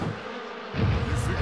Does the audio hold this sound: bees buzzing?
yes